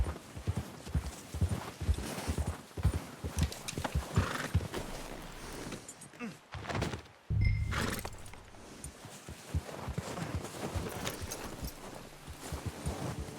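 Horse hooves clip-clop at a steady trotting pace in the Western video game Red Dead Redemption 2, close and prominent. There is a brief whinny partway through and faint jingling tack.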